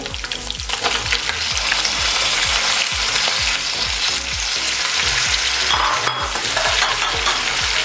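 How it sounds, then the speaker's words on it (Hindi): Tomatoes tossed into a hot pan for masala biryani, frying with a loud, steady sizzle and repeated stirring scrapes throughout, close up and with no talk. "अब इसमें टमाटर डाल देंगे।"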